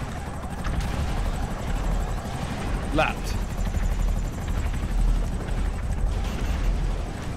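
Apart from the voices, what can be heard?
helicopters in a video game race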